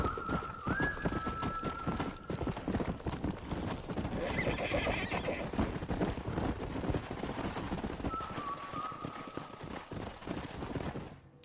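A horse in the video game Red Dead Redemption whinnies clearly and repeatedly while hooves clip-clop in a steady rhythm nearby, with ambient bird calls faintly behind.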